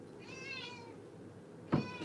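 Kitten meowing twice, a drawn-out harmonic mew followed after a pause by a shorter, louder one, alone against a quiet background.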